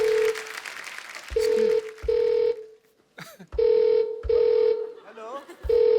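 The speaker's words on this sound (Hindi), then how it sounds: "फोन आ रहा है" A telephone rings in repeated loud electronic bursts with short gaps, close and insistent, while a person talks over and between the rings.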